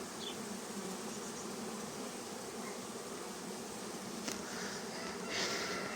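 A steady, dense buzzing of many honey bees fills the air continuously, close and even, with no voices.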